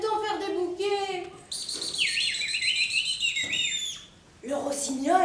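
A nightingale's song played as a stage sound effect in a theatre show: bright chirps and long, sliding, whistle-like warbles in quick phrases, close and clear, with a short lull before a final burst.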